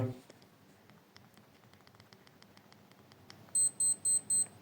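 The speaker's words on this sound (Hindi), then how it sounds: "जैसे ही 15 पे पहुँचा इसने मुझे बीप दे दी" A PSL 311 digital tasbih counter gives four sharp electronic beeps on reaching its set count, after a series of soft button clicks, close and clear.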